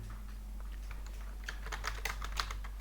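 Code is typed on a computer keyboard for an Android WebView program, starting as sparse soft key taps and turning into quicker bursts of close clicking over a low steady hum, with no voices.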